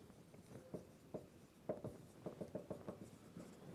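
Chalk or marker writing on a lecture board, a soft run of quick, faint scratchy strokes in short bursts, quicker toward the end, with no voice over it.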